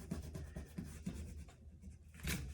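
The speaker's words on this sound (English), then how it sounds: "I'm going to erase this line" An eraser rubs out a pencil line on a paper sketch: close, rhythmic back-and-forth scrubbing strokes, fairly faint, ending in a slightly louder swipe.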